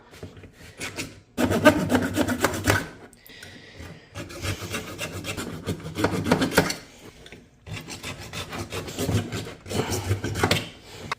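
A small hand saw rasps through plastic tabs in repeated close bursts of scraping strokes, with brief pauses between cuts while assembling a waterproof first-aid kit.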